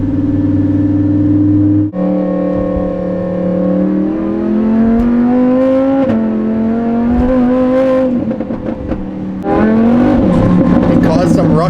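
A Lamborghini engine drones loud and close on wet roads while traction control cuts in, its steady tone rising in stepped revs with sputtering, crackling interruptions as power is trimmed; voices talk over it.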